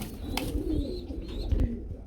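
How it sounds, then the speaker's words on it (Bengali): Male pigeon cooing at a pigeon farm, a low soft coo repeated a few times close by amid other birds and faint background noise. "দেখতে পাচ্ছি নটটা ডাকতে আছে ডানে"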